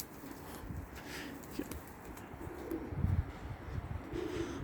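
Soft, low pigeon coos close by in a quiet space, with faint rustling and a few light chirps in the background.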